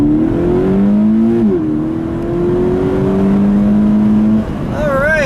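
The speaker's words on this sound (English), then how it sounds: "We'll leave the transmission in D and just let it rip." A 2017 Subaru BRZ Limited with an automatic transmission, in track mode, accelerates hard from inside the cabin. The loud engine drone climbs steadily through the gears with brief dips at the shifts, and a voice talks over it near the end.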